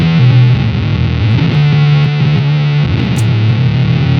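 An EarthQuaker Devices Data Corrupter pedal turns guitar into a loud, glitchy monophonic synth distortion, a dense buzzing tone that warbles and jumps between pitches without a break.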